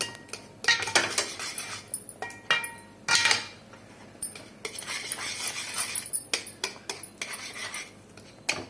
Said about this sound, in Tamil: அப்படியே கரண்டி விட்டு கிளறிக்கிட்டே இருக்கணும்